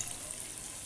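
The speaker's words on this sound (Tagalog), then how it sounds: "nagpiprito tayo ngayon ng okra" Okra fries in a pan with hot oil, a steady close sizzle of bright crackling hiss heard alone.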